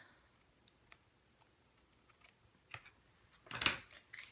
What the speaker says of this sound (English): I'm just doing a diagonal cut across the corner where the flap is